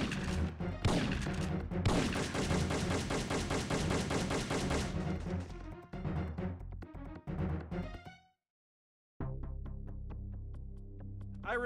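Sustained gunfire during a military reconnaissance of a mountain pass near an impact area, dense rapid bursts and machine-gun fire for several seconds, then scattered shots, a brief silence and renewed firing, loud and close.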